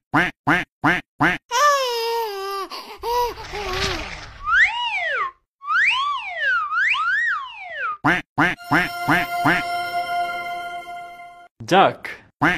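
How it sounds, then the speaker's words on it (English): Repeated bright, nasal cartoon duck quacks in quick bursts, mixed with springy boings and sliding electronic tones, loud and close. "quack, quack, quack, quack,"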